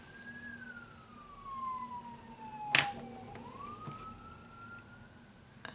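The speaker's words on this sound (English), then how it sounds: "Ignore the police sirens, please." A police siren wails steadily in the distance, its pitch sliding down and back up, with a sharp clatter partway through.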